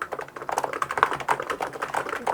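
Fast typing on an ABKO Hacker K995P v3 contactless keyboard, a close run of soft, muted keystrokes in an irregular, quick rhythm with no talk.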